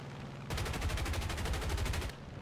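In War Thunder, an aircraft fires a long burst from its .50 caliber machine guns, giving a loud, close, rapid steady rattle that runs nearly two seconds before cutting off.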